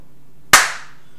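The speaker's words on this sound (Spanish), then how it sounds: "Sí le voy a dar un aplauso" A single sharp hand clap rings out close and loud against near silence, with a brief decaying tail.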